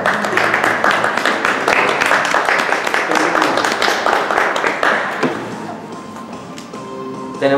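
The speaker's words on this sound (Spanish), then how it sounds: "Un aplauso, por favor." Audience applause during cast introductions for a stage production of Legally Blonde, a dense, steady patter of many hands that thins and fades after about five seconds, leaving quieter room sound.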